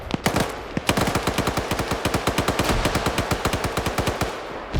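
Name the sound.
gunfire in a video game match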